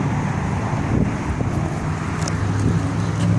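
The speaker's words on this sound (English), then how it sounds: "excuse all the wind today. It's very windy out." Strong wind buffets the microphone outdoors beside a 1997 Plymouth Voyager wheelchair-accessible van, a loud continuous low roar with gusts and no speech.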